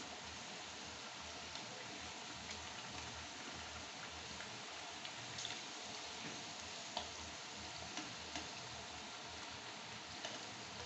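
Thattai dough discs frying in hot oil, a steady soft sizzle with faint crackles and pops running evenly throughout, no voices.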